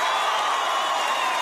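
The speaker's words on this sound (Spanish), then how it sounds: "Vamos a brindarle un fuerte aplauso a Papá Dios" Studio audience on a Colombian TV variety show clapping and cheering, a dense, steady wash of applause from a crowd, loud and continuous for a short burst.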